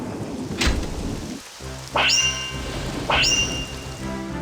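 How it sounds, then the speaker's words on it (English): Steady rain hisses in the RPG-Maker game Unterwegs in Düsterburg, broken by sharp thunder cracks, one early and two loud, close strikes later in the storm. "The strongest thunderstorm in months, as if ordered for my purposes."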